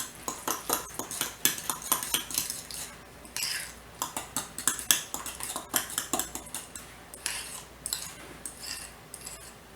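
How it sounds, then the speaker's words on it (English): A utensil stirs Brussels sprouts, celery soup, cream cheese, salt, pepper and spices together in a dish, producing quick, repeated scraping clinks against the bowl, close and steady with short pauses. "I'm going to stir this up."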